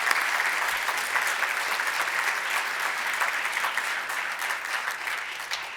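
An audience at an awards ceremony applauds in a sustained, even wash of clapping from many hands, holding steady and easing slightly toward the end.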